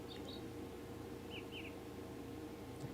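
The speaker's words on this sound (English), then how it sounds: "I hear birds." Ambient birdsong from the video game The Great Circle: a few brief, faint chirps high above a steady low background hum, with no talking.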